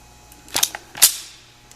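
A Gold Standard rifle trigger is pulled and released, giving two or three sharp, small metallic clicks close up in a quiet room.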